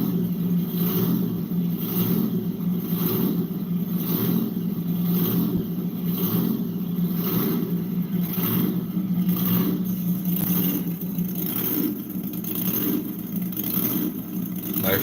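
A Plymouth Barracuda's engine runs steadily after sitting unstarted for a long while, a loud, continuous rumble with a pulsing, even rhythm and no talking over it.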